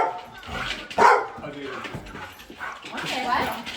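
Dogs bark and whimper excitedly outdoors on Halloween night, loud yelps and yips mixed with sharp barks close by, while people talk over them.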